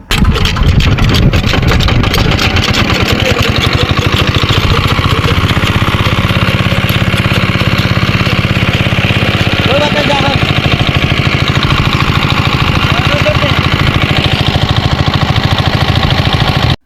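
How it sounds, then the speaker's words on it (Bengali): A farm spray pump's small engine runs steadily and loudly the whole way through, a continuous mid-pitched drone with a low rumble beneath it, and voices can be heard over it. "আলহামদুলিল্লাহ আমাদের এই মেশিনটা স্টার্ট হয়ে গেছে"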